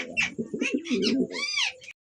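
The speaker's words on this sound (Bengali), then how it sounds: "দর্শক দেখতে পাচ্ছেন খুবই সুন্দর বোম্বাই কবুতর ডাকতেছে" A Bombay pigeon coos close by in a series of soft, throaty, rolling calls that end in a brief rising note, with no other sounds.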